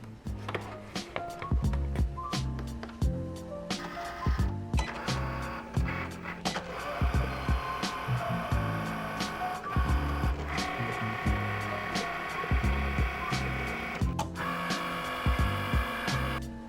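A printer runs a stained glass pattern onto paper, making irregular mechanical clunks, whirs and rolling feed noises at close range with no voices.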